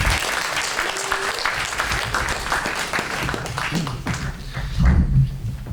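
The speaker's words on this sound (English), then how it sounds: "let's give him a round of applause" Audience applause fills an induction ceremony at a Jewish hall of fame, steady dense clapping from a crowd that carries on throughout and swells slightly near the end.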